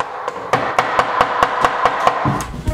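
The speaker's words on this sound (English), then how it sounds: "I'm hitting my crib with a hammer," A hammer bangs repeatedly on a wooden crib, about ten sharp, loud knocks in a fairly even rhythm, close and alone with no talking.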